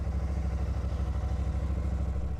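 A Royal Enfield Super Meteor 650 motorcycle running just after being started, a steady close-up engine with a fast, even, low thumping pulse and no talk over it.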